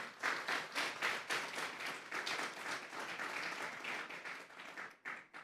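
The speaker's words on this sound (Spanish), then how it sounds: "Denle un fuerte aplauso pues al Señor." Congregation at a Spanish-language church service gives loud, sustained applause in surging waves, with the clapping thinning briefly near the end before picking up again.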